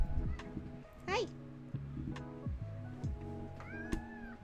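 A cat meows several times close by indoors, in short, uneven calls with brief pauses between them. A person's voice may also be present in the background.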